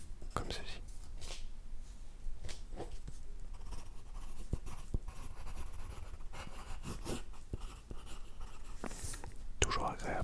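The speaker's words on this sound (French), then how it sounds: "Vous aurez des petits bruits de papier et de crayon à papier qui passent dessus, comme ceci." A pencil scratches across paper in a quiet room, a soft, steady scraping with short strokes and taps that continue for the full stretch under faint whispering.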